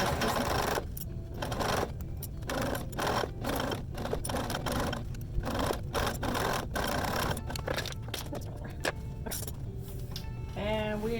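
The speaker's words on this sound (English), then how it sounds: "you're sewing right along the edge of the stabilizer or interface" Sewing machine stitching a bag seam along the edge of stabilizer or interfacing, a fast steady mechanical whir with regular ticking, close up, with faint speech at moments.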